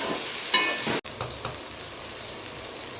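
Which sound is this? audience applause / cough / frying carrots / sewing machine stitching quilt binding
frying carrots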